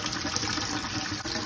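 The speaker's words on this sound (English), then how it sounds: "The water is now running to the tank." Water from a homemade Python-style tank cleaning kit runs through a hose into an aquarium tank, a steady, close gushing flow without a break.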